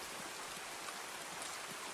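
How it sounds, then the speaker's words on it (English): Rainfall ambience in the video game Escape from Tarkov, a soft, steady hiss of rain with faint scattered drops, continuous and quiet throughout with no voices. "We'll go ahead and turn that rain"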